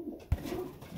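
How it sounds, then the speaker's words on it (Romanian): Pigeon cooing inside an aviary, a single low soft coo rising briefly near the middle against a quiet background of faint bird sounds. "avem aici cel mai noros porumbel"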